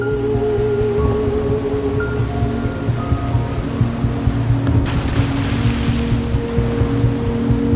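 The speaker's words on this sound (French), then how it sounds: "Des centaines de bateaux s'engagent dans une course effrénée." Hundreds of sand-carrying boats on a river in Bangladesh produce a steady, loud engine drone mixed with water wash and wind rush, continuous throughout with no speech.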